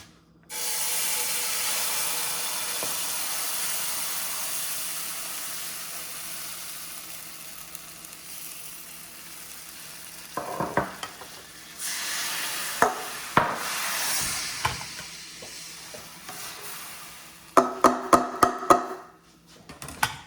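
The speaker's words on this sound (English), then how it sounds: "let me get everything mixed up in the skillet here" Kale and meal-kit ingredients stirred in a skillet, soft sizzling with scattered scraping and knocking of a utensil against the pan, growing busier toward the end, with no voices.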